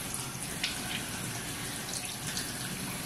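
Tap water runs steadily into a sink during a face wash, a soft, continuous hiss and splash, with faint irregular splashing of hands, quiet and close.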